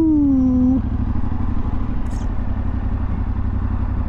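A 2024 Yamaha Tenere 700 motorcycle rumbles steadily up close, with a brief rising whine at the start, then a constant low engine drone throughout, no talking.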